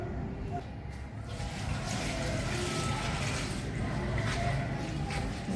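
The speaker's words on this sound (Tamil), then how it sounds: "இப்போ நல்லா இதை அலசி எடுத்துக்குவோம்." Ingredients for a chutney rinsed in water in a kitchen, a steady soft splashing and trickling that swells slightly after the first second and continues throughout.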